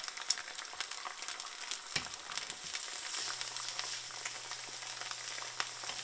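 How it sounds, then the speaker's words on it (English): Eggs and ham fry in a pan for a home breakfast, a steady soft crackling sizzle with scattered pops, moderately quiet and uninterrupted, with no one talking. "Put some eggs in there. So much better than cereal. I'm gonna love it. I'm gonna cook some ham."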